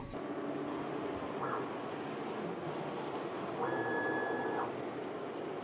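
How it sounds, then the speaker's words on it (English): A FocusInc Galaxy-Jet 18 printer prints calibration lines, its print head carriage whirring in brief back-and-forth passes with a faint electronic tone over steady mechanical hum, fairly quiet and without speech. "Then the printer starts to print."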